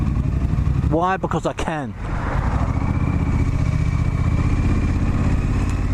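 A Triumph Street Scrambler motorcycle fitted with an Arrow exhaust rides close by, rapid revving shifts through gears then settling into a steady engine drone, with a rider talking briefly over it.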